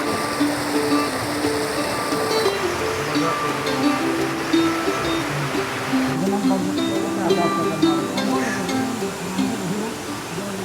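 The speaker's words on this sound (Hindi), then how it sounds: "पास में देखिए उत्तरवाहिनी नदी में आजकल खूब पानी आया है" A north-flowing mountain river running high in the early monsoon rains, giving a steady broad rushing roar close by, with a voice talking over the water.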